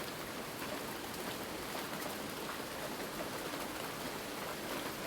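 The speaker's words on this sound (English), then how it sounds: "It's raining, I guess you noticed." Steady rain falls outside during a lecture, a soft, even broadband hiss with scattered drop ticks, fairly faint and continuous throughout with no voices.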